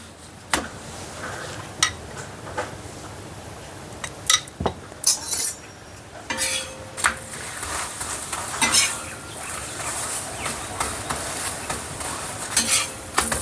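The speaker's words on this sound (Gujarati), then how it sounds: "મીડિયમ ગેસે પરોઠાને થેપલા તમે શેકો" Thepla roasting on a pan over a medium gas flame, a soft background sizzle broken by irregular metallic scrapes, taps and clinks of a spatula, close and moderately loud, with no talk.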